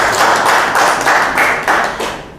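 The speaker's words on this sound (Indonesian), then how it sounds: "Keren dong, tepuk tangan semuanya." A group of students at a school presentation practice claps in unison, loud regular beats of about three per second, close and without talk.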